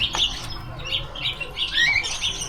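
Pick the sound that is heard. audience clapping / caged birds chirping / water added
caged birds chirping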